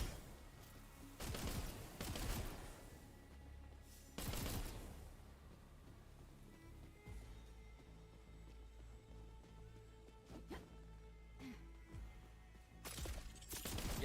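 Venom gun in the video game Wayfinder firing in short loud bursts, separated by quieter stretches of in-game ambience with scattered clicks and impacts.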